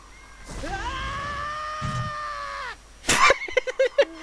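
A Deku sprout in the video game The Legend of Zelda: Ocarina of Time lets out one long, loud, pitched scream that rises at the start and holds steady for about two seconds, followed by a few short clicky game sounds.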